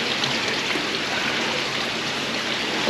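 Water runs steadily at an old communal laundry, now a tourist spot in Sicily, a continuous close broadband rush like a stream or fountain, with no voices.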